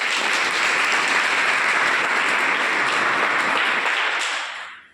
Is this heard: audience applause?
yes